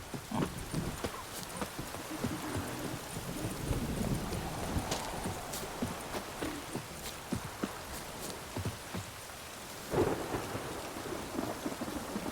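Steady rain falls in a stormy field in The Witcher 3: Wild Hunt, with a low rumble of thunder rolling in partway through and horse hooves clopping nearby, a continuous wet wash filling the scene.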